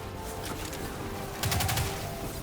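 Enemy gunfire from Fallen foes during a solo Destiny Nightfall strike, The Ordeal against the Fallen Saber: a tight cluster of rapid automatic shots bursts out midway through, loud against a steady background of game ambience.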